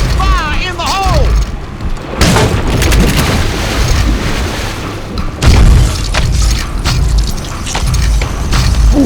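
Heavy booming explosions in the horror video game The Suffering, a loud blast followed by another burst of crashing rumble partway through, with a voice heard at the start.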